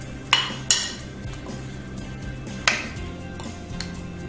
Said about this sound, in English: I'm just going to give that a stir around. Just move it around the bowl